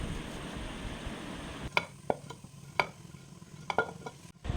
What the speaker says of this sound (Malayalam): ഇനി നമുക്ക് അതിലോട്ട് നേരത്തെ എടുത്തു വെച്ച ക്യാരറ്റ്, ഉള്ളി, ക്യാബേജ് എന്നിവ ഇട്ട് ഒന്ന് ഇളക്കി കൊടുക്കാം.